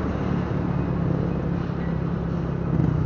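Steady road traffic noise and a continuous engine drone surround a rider on a Yamaha NMAX scooter, a broad, even wash of sound held close throughout with no voices.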